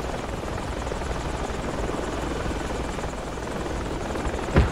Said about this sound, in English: Just make sure there's a chopper up north.